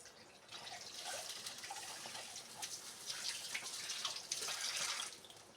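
Water pours into a pot of sambar made with Mumbai basale greens, a steady splashing, trickling stream that runs for several seconds and swells louder near the end, with no voices over it.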